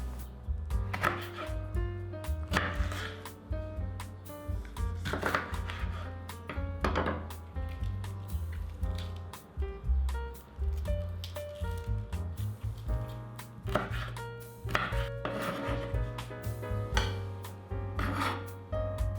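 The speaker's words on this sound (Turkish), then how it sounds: "Aynı şekilde tatlı biberi de doğrayın." Quick bursts of knife strokes slicing sweet pepper into thin strips on a cutting board with a slightly scraping, rasping edge, broken by short pauses, over quiet background music.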